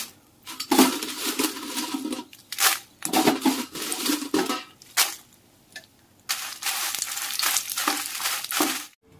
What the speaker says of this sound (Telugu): ఇప్పుడు మళ్ళీ ఇదే పాత్రలో ఎండుమిరపకాయలు వేయించుకుందామండి.